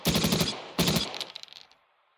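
Two rapid bursts of machine-gun fire sound close and loud in a WW2 game, with a short gap between them, then a few scattered shots trail off into quiet.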